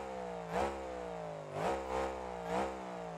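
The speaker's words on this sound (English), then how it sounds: "let's go ahead and fire that truck up and listen to the new sounds" Monster truck in BeamNG Drive, engine revving in three sharp surges that rise and fall about a second apart over a steady idle drone, loud and close with no talk.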